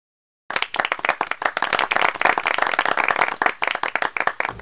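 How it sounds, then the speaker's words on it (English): A round of applause for graduates at a university biology department ceremony breaks out suddenly after silence, with dense, close rhythmic clapping from a small group that stays steady throughout. "give yourself a round of applause"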